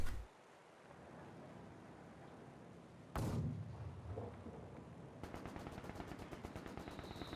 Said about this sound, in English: Lyconious goes for the heavy mortar now